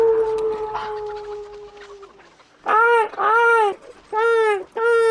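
A voice imitates a white crow's cawing with four loud, harsh calls in quick succession, following some background noise and a faint tone.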